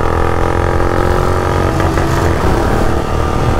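A Royal Enfield Bullet 350 and a Yamaha R15 V4 accelerate together in a drag race, a loud continuous engine roar rising in pitch through the gears, close and steady with no talking.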